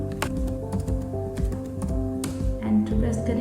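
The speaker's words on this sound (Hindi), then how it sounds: "एंटर प्रेस करेंगे" Keys on a computer keyboard tapped in quick, uneven clicks during data entry in ERP accounting software, with someone talking steadily underneath the typing.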